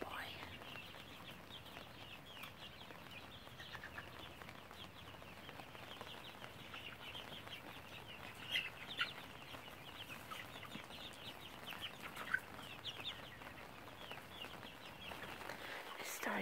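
Soft clucking from a young rooster and chickens mixed with steady rain patter, brief louder bursts now and then, with a voice talking quietly over it.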